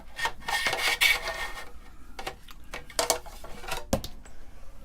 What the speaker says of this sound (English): So we'll go ahead and slide it out here